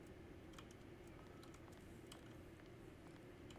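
Scattered light key strikes on a typewriter in the game Alone in the Dark tap out an uneven rhythm over a constant low hum, quiet and close, with no voices.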